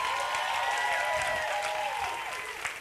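An audience at a benefit concert gives a choir a round of applause, clapping steadily at moderate volume before trailing off.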